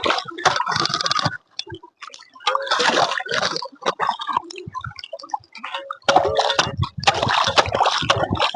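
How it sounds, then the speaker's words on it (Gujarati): Water splashing at Mandvi in loud, ragged broadband bursts separated by short quieter gaps, with spatters and drips between the surges, close by. "ઓહ પાણી છાટા ઉડે ભાઈ"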